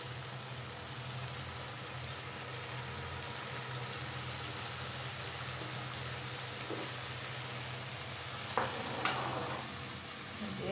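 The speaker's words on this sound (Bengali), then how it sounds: "এখন আমি খুব সুন্দর করে মশলাটাকে কষিয়ে নেব।" Spice paste fries and is stirred in a pan for chicken skin bhuna, a steady low sizzle with a few sharper scraping clinks near the end, no talking.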